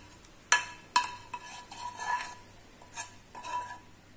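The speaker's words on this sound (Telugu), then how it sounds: "మొత్తం అంతా కలిపేసుకుందాం" Bitter gourd pickle mixed with tamarind pulp and cooled tempering, a spoon scraping and clinking against the vessel in a few sharp knocks followed by softer wet stirring strokes, close by with no talk.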